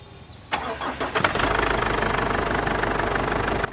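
Ford Everest engine cranking and catching at about half a second, then settling into a steady, close idle with a faint knock in the workshop.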